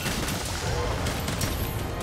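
Rapid bowgun fire aimed at a monster's head in Monster Hunter World: Iceborne, a dense continuous stream of shots with no clear gaps between them.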